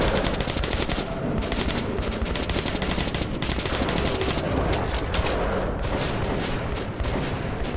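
Sustained automatic gunfire in Metro 2033 Redux, a loud, continuous rattle of close shots with occasional heavier booms, running steadily throughout with no talking.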